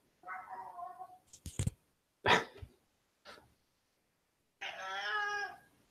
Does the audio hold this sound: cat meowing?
yes